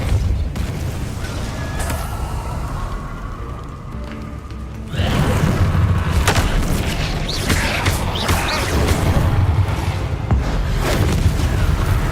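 Spell blast from the Confringo curse in Hogwarts Legacy, a loud booming burst that erupts midway and leaves a sustained crackling, rumbling wash of debris and ambience.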